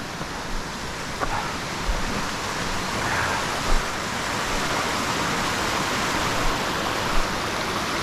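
A creek flows beside a hiking trail on a foggy day, making a continuous, even rush of moving water with a few soft knocks and no talking.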